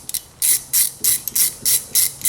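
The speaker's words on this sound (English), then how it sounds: "I will use hex number 5 to remove the bolt which is holding it down in that position" A hex key, size 5, loosens the ABS sensor bolt on a Mini, giving a close series of about six rhythmic metallic ratcheting clicks in quick bursts with no talk.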